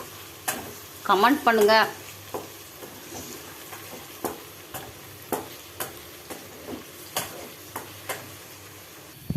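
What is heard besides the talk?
stirring and sautéing in a pan for brinjal kulambu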